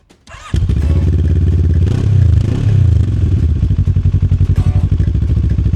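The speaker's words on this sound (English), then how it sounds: "Let's fire this thing up and get back on the road." A Moto Morini X-Cape 700 adventure motorcycle on Route 14 cranks and fires up loudly, settling into a steady throbbing engine note that turns into rapid rhythmic pulsing as it revs, close by with no talking.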